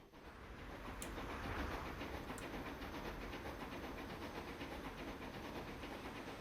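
A passenger train of Pullman wagons in the Transport Fever 2 game runs with a steady, dense rumble and rolling noise, joined by a couple of faint high clicks.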